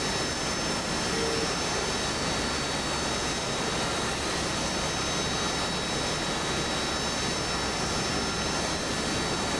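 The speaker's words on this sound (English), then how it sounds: "And here we go for the vertical takeoff." The Harrier jet in DCS World roars steadily through a vertical takeoff, a dense, constant engine blast with a thin high whine that holds unchanged at full loudness throughout.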